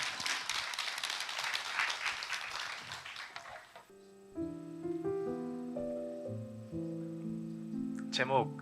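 Audience applause at a youth festival essay reading in Yeonggwang, a dense crackling burst lasting about four seconds before fading out, followed by steady instrumental music tones.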